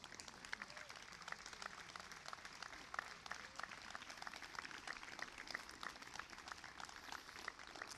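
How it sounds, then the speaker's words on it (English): Applause for veterans at a Memorial Day observance in Swampscott, a steady, even patter of many hands clapping, heard from some distance and fairly faint, without a break. "And one more round of applause for our veterans that are here today."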